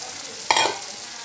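Long beans dropped into a pot of sayur lodeh, giving one brief close splash and sizzle followed by a short stir, then quiet.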